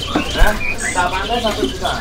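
A cucak pantai songbird chirps in short, varied warbling phrases at a busy bird market in Pramuka, close and fairly loud, with other market noise and possible voices around it.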